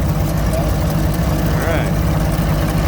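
An Allis Chalmers engine idles in a steady low rumble, close and continuous, with a faint voice or brief chirp over it.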